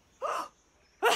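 A cartoon character hiccups twice in quick succession, each a short, sharp, close vocal gulp separated by a brief silence.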